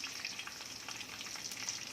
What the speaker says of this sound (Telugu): ఉల్లిగడ్డలు, కరివేపాకు, జీలకర్ర ఆవాలు వేసి కొంచెం వేయించుకోవాలన్నమాట